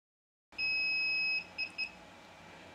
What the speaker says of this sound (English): you're going to hear the transmitter start beeping